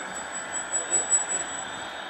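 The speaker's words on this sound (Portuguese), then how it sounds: "E mais uma vez o drone sobrevoa o nosso estádio aqui municipal." A drone flies over a municipal football stadium during a match, giving a steady high-pitched whine over a broad, even background hum that swells slightly midway.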